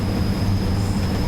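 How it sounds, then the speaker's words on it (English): A diesel train engine in Train Sim World, a Class 142 Pacer on the Blackpool Branches route, gives a steady loud low rumble with a constant high whine above it, unbroken throughout. "all of these houses next to the tracks get to hear a diesel engine rumbling through"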